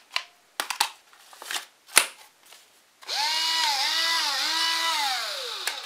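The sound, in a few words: old National cordless drill running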